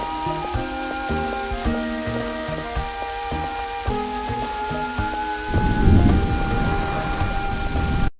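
Heavy rain and rolling thunder from a perpetual storm in the video game Little Big Adventure 2, entering after several seconds of tonal game music and then roaring as a dense, steady wash to the end.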